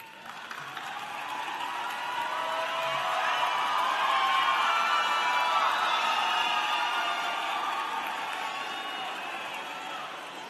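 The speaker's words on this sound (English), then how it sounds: "Please stand and give them a warm of applause" Sustained applause from a large audience at a spring graduate commencement ceremony, steady dense clapping that swells and holds for about ten seconds with scattered crowd noise mixed in.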